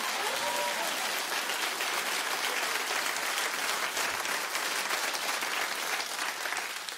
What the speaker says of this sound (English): Clap it like you mean it.